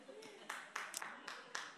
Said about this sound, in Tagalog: Uy, isa lang pumalakpak.